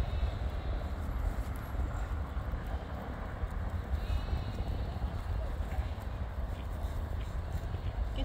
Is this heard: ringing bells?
no